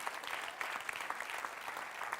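A church congregation applauds at a morning worship service, steady dense clapping filling the room without a break, no voices standing out.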